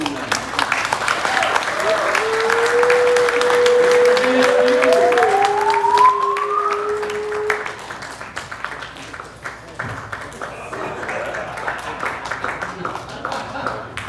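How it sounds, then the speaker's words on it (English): An audience at a 2022 West Coast car meet awards ceremony applauds loudly, with scattered cheering and a rising whistle, before the clapping thins out and an announcer speaks over it. "big round of applause for Geo Metropolitan"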